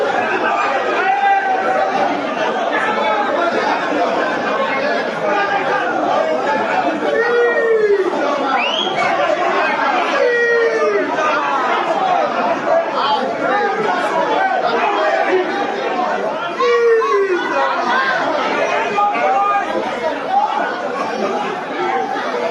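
A pool-hall crowd at a live final buzzes with loud, continuous chatter, scattered chuckles and excited voices overlapping throughout, close and dense.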